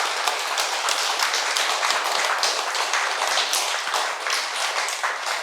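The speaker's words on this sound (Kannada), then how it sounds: "ಸುನೀತಾ ಮೇಡಮ್ ಅವರಿಗೆ ಜೋರಾಗಿ ಒಂದು ಸರಿ ಚಪ್ಪಾಳೆ ಹೊಡೆಯೋಣ" An audience applauds Smt. Sunitha M.V. at a full moon meditation talk, dense continuous clapping from many hands at an even, fairly loud level throughout, with no voices over it.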